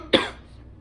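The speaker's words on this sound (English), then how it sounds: "I've been coughing a little today" A single sharp cough from a man, loud and close, followed by a brief trailing breath in a quiet room.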